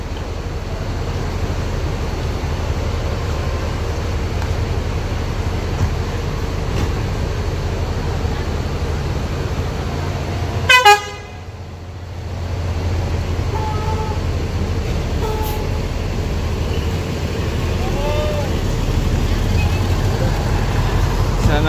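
A Sinar Muda bus idling at a busy bus terminal, a steady low engine rumble with surrounding traffic noise and a brief sharp hiss or horn-like burst midway, with people talking nearby.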